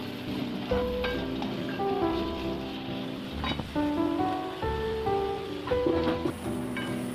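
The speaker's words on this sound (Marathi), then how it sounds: "कांदा तेलामध्ये फ्राय करून घ्यायचा आहे, परतून घ्यायचं आहे व्यवस्थित" Chopped onion frying in oil for a bitter gourd (karela) vegetable dish, a steady soft sizzle with faint stirring, accompanied by tonal background music.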